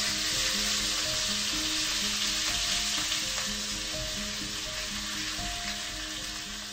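Tomatoes stir-frying in a wok with lemongrass and onion for Assam fried fish give a loud, steady sizzle with busy crackling and occasional scrapes of stirring, all without talk.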